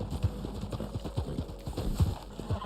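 A horse in the Red Dead Online video game runs with a rapid, rhythmic clip-clop of hooves, loud and near, with faint talk in the background.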